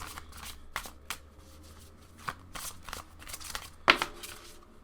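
Tarot cards being shuffled by hand: a run of soft riffling and slapping bursts, several brisk flurries and one sharper snap near the end, close up and alone with no talk.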